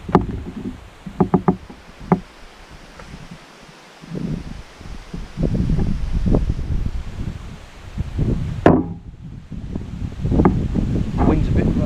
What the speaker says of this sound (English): Wind's a bit of a nightmare.